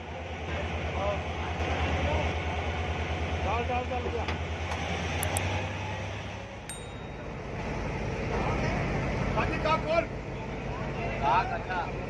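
Karachi Circular Railway train at City Station, a steady loud rumble of the moving train that shifts midway, with faint high squeals and someone talking over it throughout.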